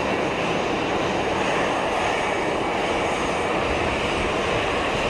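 A KLM airliner taxiing to its stand at Geneva Airport, giving off a steady broadband engine rush, loud and unbroken throughout, with no talk.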